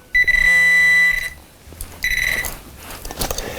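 A handheld metal detector gives off electronic beeps: one long steady tone, a pause, then a shorter, fainter tone, with quiet handling noise between them.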